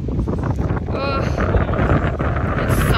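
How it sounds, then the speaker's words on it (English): Strong wind roars and buffets the microphone on a very windy day, a loud, continuous rushing across the whole clip with voices talking underneath. "It's such a windy day."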